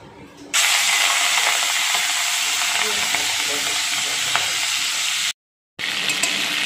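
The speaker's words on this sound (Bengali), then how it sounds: "এবার আমি চিংড়ি মাছগুলো ভাজা করে নিচ্ছি।" Shrimp frying in hot oil in a wok for a papaya, banana-stem and shrimp dish, a loud steady sizzle that runs continuously and drops out briefly near the end.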